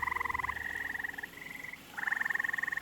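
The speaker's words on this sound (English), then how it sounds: "Seemingly out of nowhere, gray tree frogs were everywhere," Gray tree frogs call in bursts of rapid, pulsing trills, several overlapping voices nearby, with a brief lull before a loud chorus resumes; no talking.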